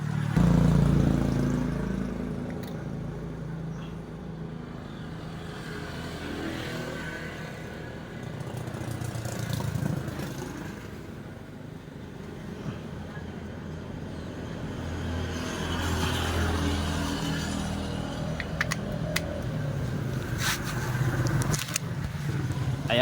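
A Honda Wave Alpha 125 motorcycle with a primary-type electrical setup starts and settles into a steady, continuous idle. The engine rumble runs throughout at moderate level and swells slightly in places, with no talk over it.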